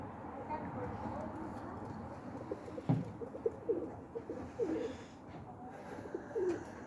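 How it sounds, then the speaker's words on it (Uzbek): Pigeons in a loft coo softly in short repeated phrases at a modest distance, with faint rustling and a sharp knock partway through, in a quiet outdoor setting. "Mana kaptarlar bori shu hozircha"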